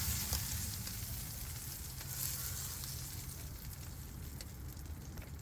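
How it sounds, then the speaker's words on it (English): Eggs and sausage sizzle on a greased griddle, a steady close crackling hiss that runs evenly throughout with no talk over it. "We got this griddle here already greased up with the eggs."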